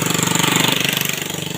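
A motorcycle engine running with a fast, even putter that stays steady and close throughout the brief stretch, with no voices over it.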